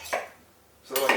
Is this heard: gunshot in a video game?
no